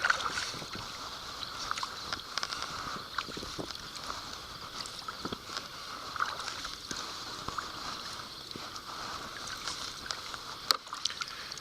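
Steady splashing and rushing water as a small paddled boat moves along the flooded Ohio River, with light wind in the background and occasional knocks.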